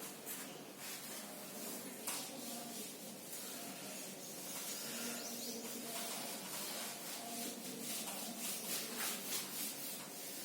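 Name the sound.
teacher rubbing out writing on the board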